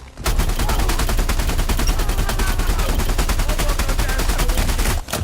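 Rapid automatic gunfire in Elite: Dangerous, a loud, evenly spaced burst of many shots running steadily for about five seconds before cutting off.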